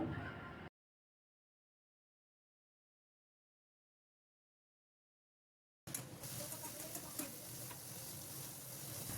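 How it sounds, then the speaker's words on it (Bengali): Fried potatoes and spice masala sizzle in a pan, a crackling frying hiss heard briefly at the start and again after a long silent gap. "মশলা কষানো হয়ে গেলে ভাজা আলুগুলো দিয়ে দিলাম"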